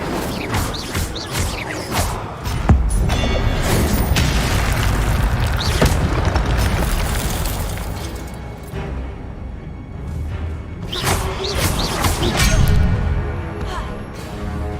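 Incendio fire spell blasts in the video game Hogwarts Legacy, repeated bursts and booming impacts mixed with crashing combat noise, loud and dense throughout.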